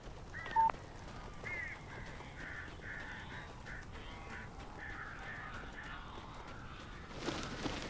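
Crows cawing inside a building in the video game Alan Wake, a series of harsh repeated caws over a low rumbling ambience, with a louder burst near the end.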